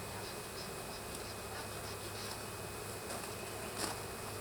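Dense, steady buzzing of many bees swarming close by around an opened Flow hive, a constant drone with occasional louder passes near the listener.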